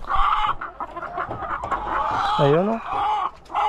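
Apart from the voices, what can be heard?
hen clucking as her egg is taken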